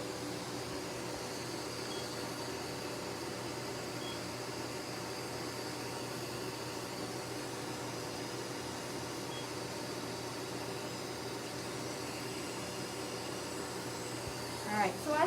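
A CO2 fractional laser machine runs during a skin treatment, giving a steady, unbroken whirring hum at moderate level throughout, with a brief louder rustle right at the end.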